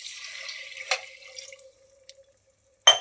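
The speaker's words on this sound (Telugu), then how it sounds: "ఈ గ్లాస్తో వాటర్ పోసుకుందాం." Water from a glass pours into a pot of kabuli chana and rajma masala curry, giving a steady splashing stream that tapers into a few drips, followed by a sharp knock at the end.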